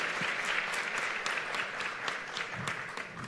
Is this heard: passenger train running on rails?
no